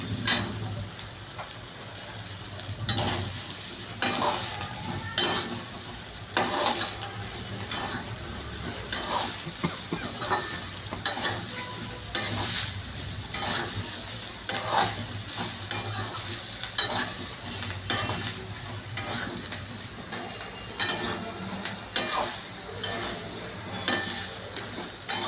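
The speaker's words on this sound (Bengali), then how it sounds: "আমার ফুলকপি ভাজা প্রায় হয়ে গেছে, এই লাল লাল করে একটু ভাজা হয়ে গেছে।" Cauliflower pieces fry in hot oil in a pan, with a steady sizzle under regular scraping and stirring strokes that repeat rhythmically throughout, close and fairly loud, with no talking.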